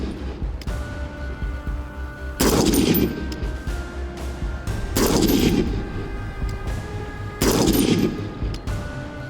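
A PSA JAKL .308 battle rifle fires three sharp, loud shots spaced a few seconds apart, each a crisp report with a booming tail. Faint background hum fills the gaps.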